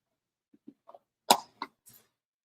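A dog's sneezes, a few soft small snorts followed by a sharper burst and a couple of trailing sneezes, close by in an otherwise quiet room.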